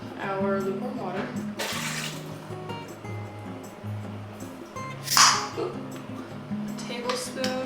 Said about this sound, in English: So we're gonna get started by adding 2 cups of our lukewarm water,